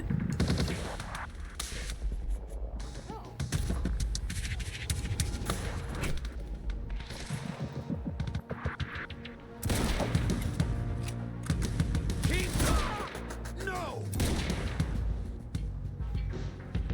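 Gunfire in the video game Quantum Break, repeated loud bursts of automatic shots and single cracks in clusters, with short lulls between firefights over a busy game soundscape.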